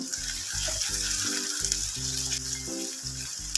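Bitter gourd, garlic, ginger and tomato fry with onion in a pan for a vegetarian thali, giving a steady, close sizzle with a faint tonal hum underneath.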